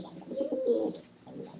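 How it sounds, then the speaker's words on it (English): Pigeon-like bird giving a low, soft cooing call, a short warbling phrase followed by a fainter second coo, heard close and clear with no speech over it. "Oh, the bird, probably the bird."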